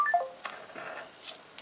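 A smartphone gives a quick series of short electronic beeps to confirm an NFC tag was written, followed by faint handling noise in a quiet room.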